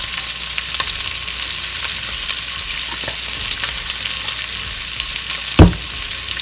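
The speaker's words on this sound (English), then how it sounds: "I'm doing is cooking it on high so that it sears a little bit." Cuban-style pork meatballs searing in a hot pan on high heat give off a steady, close frying sizzle, with one brief louder clack near the end.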